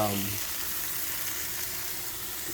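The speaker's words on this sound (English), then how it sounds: "right now what I'm doing is sauteing some shallots and green onions" Shallots and green onions sautéing in a pan for shrimp fried rice, a steady hiss of sizzling oil that continues evenly throughout, close up.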